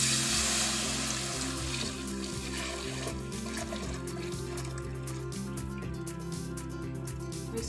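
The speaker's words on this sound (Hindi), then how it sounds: "इसमें अब डाल देंगे कड़ी।" Kadhi poured into a pan of golden browned onions, a steady liquid trickle and pour, with the loudest splash at the start that then settles into a softer flow, with no voices.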